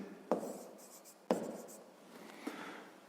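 Pen or chalk writing down a math word problem, three sharp scratchy strokes spaced about a second apart, close and clear with quiet between.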